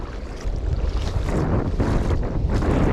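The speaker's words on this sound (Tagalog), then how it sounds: "Lakas ng amihan." Strong northeast monsoon wind blows across the microphone while fishing at sea from a boat, a loud, continuous gusty roar with water sloshing underneath.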